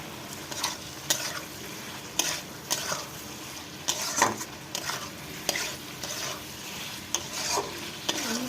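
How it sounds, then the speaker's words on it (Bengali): Taro pieces and salt being stir-fried in cooked-down spice paste for a Bengali fish curry, a steady scraping and stirring with a soft sizzle underneath and repeated sharp clinks of the spoon against the pan. "লবণটা দিয়ে আমি কষিয়ে নিচ্ছি"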